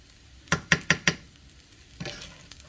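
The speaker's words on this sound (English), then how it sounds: "Get done mixing that all around, add your sesame oil, teaspoon." Chicken fried rice with sesame oil is stirred in a pan: four quick, sharp scrapes and clanks of the utensil against the pan, then a softer scrape, over a faint sizzle, close by.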